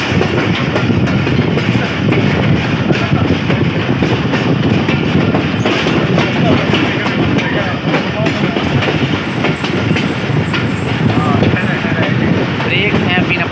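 Passenger train running at speed on a main line between Multan and Sanawan, heard from on board as a steady, loud rumble and clatter of wheels on rails, continuous throughout with wind noise and no speech.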